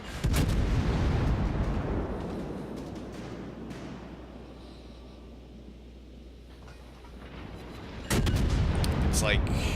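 Battleship main-gun artillery in the World of Warships naval game, with a heavy booming salvo at the start, a long rumbling decay, then another loud burst of firing near the end.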